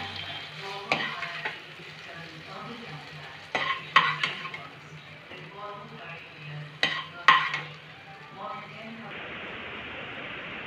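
Metal spoon scraping and clinking against a pan as cooked Aloo 65 fried potatoes are scooped out onto a plate, a series of sharp scrapes and taps amid a faint lingering sizzle.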